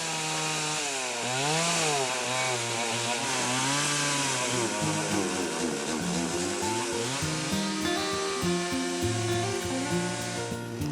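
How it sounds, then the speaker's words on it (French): A chainsaw runs steadily and loudly for the whole stretch, its engine pitch rising and falling as the throttle revs and eases. "il me semble avoir entendu une tronçonneuse fonctionner"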